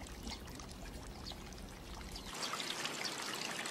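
Water pouring and trickling in a riverside channel where villagers do their washing up in a Satoyama village in Japan, a steady close splashing stream that grows brighter and fuller partway through, with no voices.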